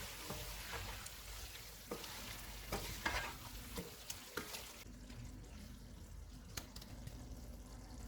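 A spoon stirs chicken tikka karahi with garam masala, black pepper, coriander and mint in a karahi, producing soft scraping clinks over a steady low sizzle, close and quiet.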